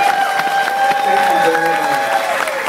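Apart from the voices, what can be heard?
audience applause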